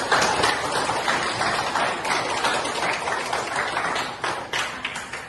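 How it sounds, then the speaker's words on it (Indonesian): Applause from a class for a teacher, steady dense clapping lasting several seconds at moderate volume with little talk. "Tepuk tangan untuk Pak"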